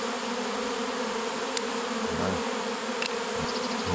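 A big swarm of honeybees buzzes in a thick, unbroken drone nearby, with a couple of faint clicks and rustles of branches being moved over it.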